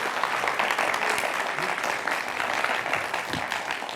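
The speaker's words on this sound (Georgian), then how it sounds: "აპლოდისმენტები მას" Studio audience applause greets a quiz contestant at the end of a round in a book-themed TV quiz final, a steady dense patter of clapping lasting a few seconds with a faint voice underneath.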